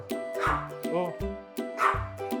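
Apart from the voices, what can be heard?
dog barking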